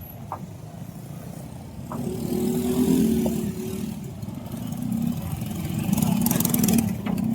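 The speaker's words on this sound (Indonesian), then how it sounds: "ini kendaraan yang melintas dan harus hati-hati" Cars and motorbikes pass along a damaged road beside a collapsed section of the CBL road in Cibitu, making a steady engine rumble that swells as vehicles approach around the middle and again near the end.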